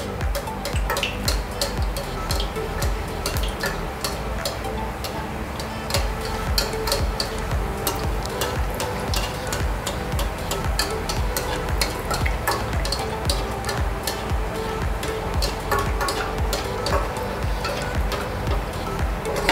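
Sweet potato gulab jamun fry in ghee over a medium flame, a steady close sizzle and crackle that runs without a break, with light scraping of a utensil in the pan.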